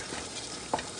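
Steady, soft sizzling of ground beef frying in a pan, with a brief louder scrape or stir near the end.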